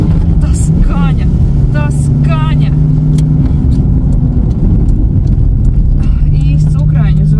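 A ZAZ 1103 Slavuta, the Ukrainian Zaporozhets hatchback, runs with a steady, loud engine hum close by, while people talk over it.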